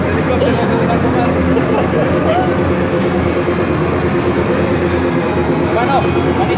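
Steady, loud drone of a military helicopter overhead, running unbroken throughout, with voices talking over it.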